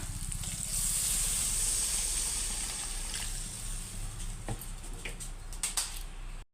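Water poured into a frying curry base for Bata fish curry, a loud hissing burst that settles into a bubbling, ticking simmer close by, with a few clinks near the end.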